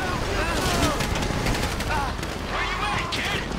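Rapid bursts of gunfire in the Grand Theft Auto V video game, shots cracking in dense, overlapping volleys that stay loud and continuous through the whole stretch.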